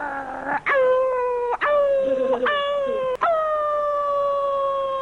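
A voice imitates a wolf howling, an anime character's impression, with several drawn-out wavering howls in a row, loud and close with no other sound.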